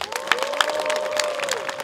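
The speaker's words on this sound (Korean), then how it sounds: "박수 부탁드릴게요" Scattered claps from a small audience greeting a band at a busking competition in Gangneung, moderately near, with a sustained tone ringing underneath.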